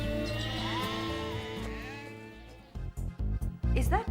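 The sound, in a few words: sheep bleating, ram and ewes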